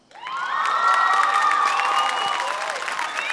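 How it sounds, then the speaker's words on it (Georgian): An audience applauding and cheering after a Georgian league final, a loud sustained roar of claps and shouts with children's voices rising above the crowd, steady from start to finish. "კიდევ ერთხელ აპლოდისმენტები თუ შეიძლება მათ"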